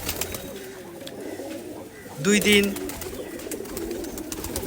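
Madrasi pigeons coo in a short, loud burst midway, rising over a steady murmur of background birds while someone talks nearby.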